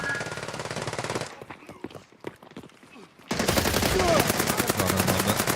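Rapid automatic fire from Uzis and shotguns rattles loudly in the online shooter Escape From Tarkov, breaks for a moment with scattered single shots, then resumes in a dense, sustained burst.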